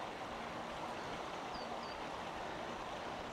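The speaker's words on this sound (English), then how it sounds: "this little fall in front of us is actually measuring the flow, the speed of the flow, of the actual river" A small weir on a river spills water in a steady, unbroken rush that holds at an even level from start to finish, close by, with no voices.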